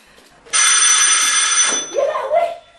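Doorbell in a home ringing with a loud, steady electric bell tone for over a second, then cutting off as voices start talking.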